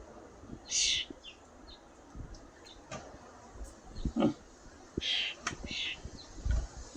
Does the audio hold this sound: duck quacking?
no